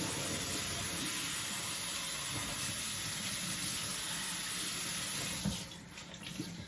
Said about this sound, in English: Gonna grab a handful of the spinach and rinse it off.